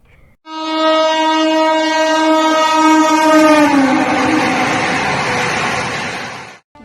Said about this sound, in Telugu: దేశంలో పండుకొని పోయే తొలి వందే భారత్ రైలు పశ్చిమ బెంగాల్ రాష్ట్రంలో చాలైంది